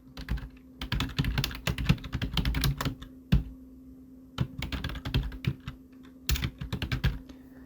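A computer keyboard clatters with rapid, close keystrokes as text is entered in Photoshop, coming in bursts separated by short pauses, with a steady low hum underneath.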